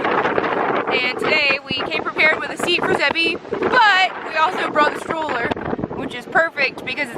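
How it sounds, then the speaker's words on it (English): Strong wind on a beach buffets the microphone in loud, uneven gusts while someone talks over it almost continuously. "perfect because it's extremely windy. I don't even know if you can hear me"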